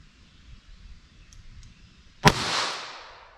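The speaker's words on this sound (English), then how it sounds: "Let's hit that with our 22 long rifle." A single sharp .22 Long Rifle shot from a snub-nosed revolver, loud and close, with a short ringing tail, preceded by quiet background noise.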